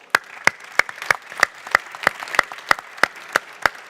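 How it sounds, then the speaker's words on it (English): Audience clapping at a high-level ministerial event on joint Europe-Africa action on adaptation and resilience, heard as a slow, even series of separate sharp claps about three per second, moderately quiet and without talk. "may I ask you just to give a big round of applause to the EU for the support."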